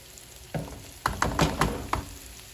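Food frying in a pan set over the heat gives a low background sizzle that flares into several sharp bursts of crackling, close by and moderately loud, with no talking.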